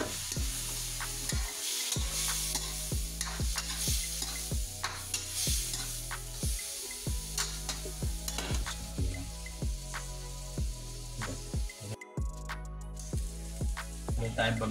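Frog meat sizzles in a hot pan while being stirred, with steady frying crackle under a run of regular scraping strokes from the utensil, close and fairly quiet.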